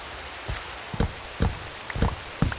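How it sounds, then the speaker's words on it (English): Rain falls in the video game Minecraft, a steady hiss of rain broken by soft, regular thuds about every half second. "it appears to be raining right now in game"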